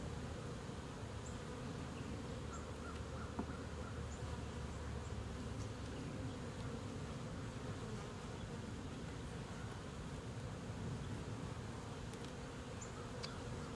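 Honeybees buzzing steadily and densely during a summer hive inspection with Carniolan and feral colonies, a close, continuous swarm drone with faint higher whines throughout and no talking.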